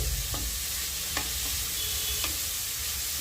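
Grated radish mixed with spices sizzles softly in a pan as a spatula stirs it, a few clear scraping knocks standing out over a constant low hum.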